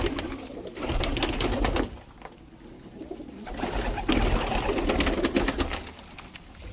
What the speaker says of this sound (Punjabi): ਇਹ ਹੀ ਕਬੂਤਰ ਦੇਖੋ